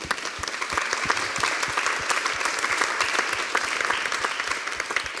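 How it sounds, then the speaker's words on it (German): An audience at an arts and culture event at a garden show gives the organizer steady, even applause, many hands clapping continuously at moderate distance throughout. "Ein Applaus für ihn"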